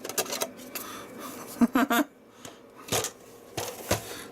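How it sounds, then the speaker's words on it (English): A loose game disc rattles inside a PlayStation console from an auction lot, giving a run of quick, close clattering bursts with short pauses between them. "That's probably why it rattles. It's just got a game inside it."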